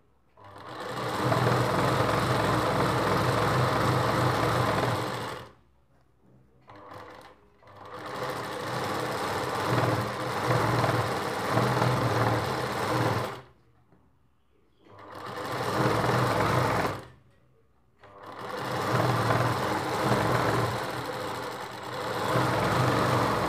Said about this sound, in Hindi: ये जो सिलाई है उसको जस्ट यहाँ पे नज़दीक ऐसे हमें सिलाई लगानी है।